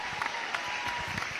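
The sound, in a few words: audience applause welcoming a speaker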